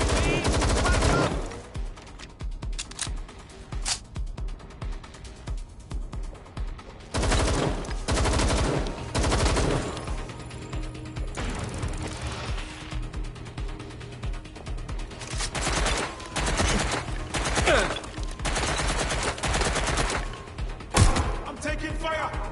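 Gunfire from Watch Dogs Legion comes in scattered loud bursts and single cracks, some clustered rapid volleys, mixed with thuds and game ambience while a voice speaks in between.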